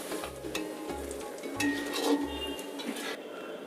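Chopped onions fry in a pan for a vegetable biryani, a steady soft sizzle broken by four low, regular scraping strokes of a spoon across the pan, close and moderately quiet with no voices.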